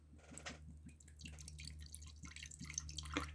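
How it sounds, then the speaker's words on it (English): Gin is poured from a small bottle at a distillery, producing faint, quick dripping and trickling splashes in an irregular rhythm over a low background hum. "I'm going to do the pouring it in"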